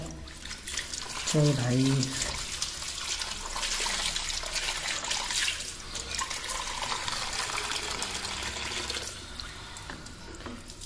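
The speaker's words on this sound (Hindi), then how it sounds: "पानी सारा फेंकते और नया भरते हैं इसके अंदर पानी सारा" Dirty water is tipped out of a container and fresh water refilled into it, a steady running and splashing from a tap that continues throughout, with someone speaking briefly near the start.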